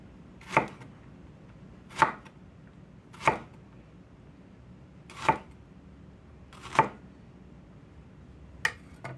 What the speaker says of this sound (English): Get my jalapenos cut up here.